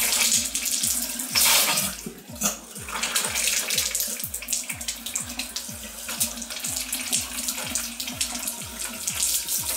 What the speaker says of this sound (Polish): Nawet leci ciepła woda.